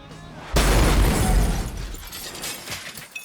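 A car slams into a parked car on an empty road in the 2003 horror film Wrong Turn, a single loud crashing impact with breaking debris that rings out and then fades over a few seconds.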